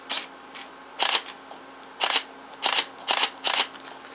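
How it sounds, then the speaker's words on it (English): A Pentax K-7 DSLR fires its shutter several times in a row, each a soft, muted double click heard up close in a quiet room, spaced irregularly about half a second to a second apart. "Another nice thing about the K7 is the shutter sound is really quiet"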